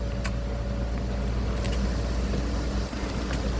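The diesel engine of a Kubota U55S excavator runs steadily nearby while digging a trench for a water pipe after dark, a constant low rumble with a droning hum and no voices.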